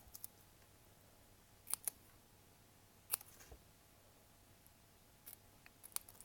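Scissors cut paper for a small craft banner on a gift card holder: a few quiet, close, sharp snips in small clusters, spread over a faint steady background hiss.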